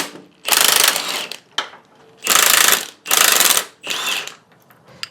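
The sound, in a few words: removing bolts from truck upper control arm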